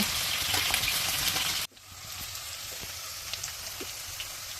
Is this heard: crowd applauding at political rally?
no